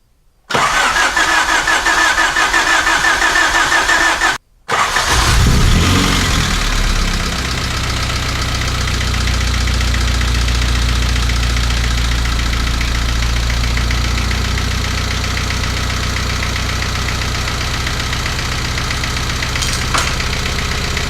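Honda Civic EF engine, freshly rebuilt after a head gasket job, cranks briefly, stumbles, then catches and settles into a steady, loud rumbling idle that runs on alone for over fifteen seconds.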